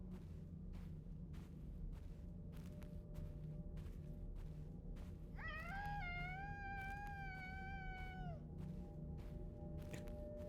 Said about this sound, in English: does sound like a cat, right? Like ow, meow.